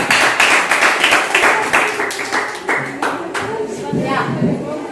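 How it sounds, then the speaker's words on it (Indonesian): Classmates in a Christian religious education lesson clap together, a loud, close burst of hand claps in a quick irregular rhythm that gradually thins out, with voices mixed in. "Tepuk tangan dulu."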